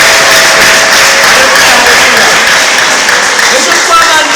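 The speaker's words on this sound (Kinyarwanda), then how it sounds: "Komera Imana amashyi kandi ushimire." A church congregation applauding during a service, loud sustained clapping from many hands filling the room continuously, with voices mixed in.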